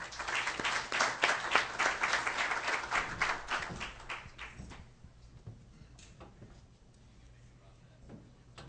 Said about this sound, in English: Please why don't you give her a big round of applause?